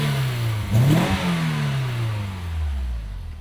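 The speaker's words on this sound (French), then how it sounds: "mets un ou deux coups de gaz" A car engine revs up sharply, then the pitch slowly winds back down toward a low idle, fairly close and steady.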